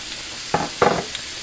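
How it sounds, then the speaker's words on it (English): Ground meat for shepherd's pie frying in a pan with onions and mushrooms, heard as two short bursts of stirring and sizzling over a quiet background. "And then I add back in the onions and the mushrooms."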